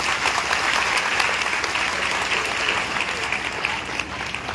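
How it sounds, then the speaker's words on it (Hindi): Audience at a district government public meeting in Hasanpura, Bihar applauds loudly, a steady dense clapping that carries on for several seconds without a break. "एक बार जोरदार ताली बजाइए"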